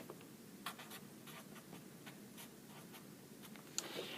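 Pen writing on paper while noting a map coordinate, with short scratchy strokes and taps in a quiet room, close and fairly soft, with no talk.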